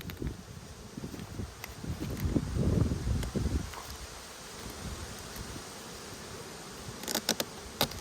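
Honey bees hum and buzz around an opened hive on an Australian apiary during a split inspection, a continuous low drone with rustling and handling noise swelling midway, then a quieter, steady buzz.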